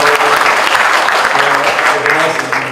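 Loud, sustained audience applause at an international fisheries symposium at Brawijaya University, a thick wash of many hands clapping evenly throughout.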